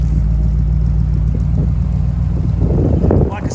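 A 1964 Impala SS convertible with a V8 and glass pack exhaust idles with a deep, steady, loud rumble throughout, swelling briefly near the end.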